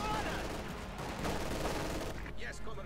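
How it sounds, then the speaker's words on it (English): Light machine guns open fire in the World War II strategy game Company of Heroes 2, a dense, continuous crackle of automatic gunfire that runs steadily throughout, loud and layered with other battlefield noise. "There's a firing up light machine guns."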